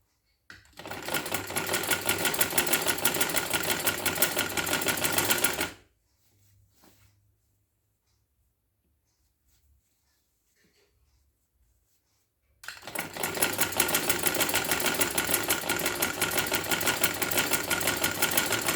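A sewing machine stitches a garment neckline in two loud, even runs of rapid stitching, separated by several seconds of near silence with faint fabric handling.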